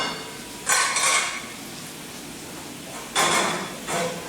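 Drained broccoli tipped into a bowl makes two short bursts of clattering and rustling against the dish, separated by a quiet pause, close and fairly loud.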